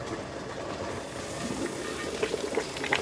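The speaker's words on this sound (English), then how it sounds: "once this comes to a rolling boil, I'll show you" A water bath canning pot for jarred applesauce reaches a rolling boil, giving a steady, close, rumbling roil with bubbling and hiss that grows slightly busier toward the end, with no talking.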